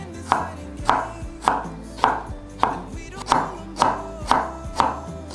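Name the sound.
knife chopping ginger into slices and strips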